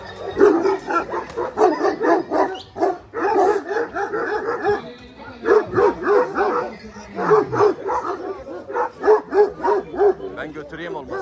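Several dogs of Bully Kutta and Kangal breeds bark in loud, rapid bursts with yips and whimpers, close by and repeated throughout, with brief pauses between volleys and people talking in the background.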